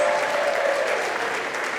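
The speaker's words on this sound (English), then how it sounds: "Give them all a round of applause" Audience applause fills a Central Florida Tiny Desk Contest showcase at the Beacham in Orlando: dense, steady clapping from a crowd, loud and continuous for the whole moment with no voices standing out.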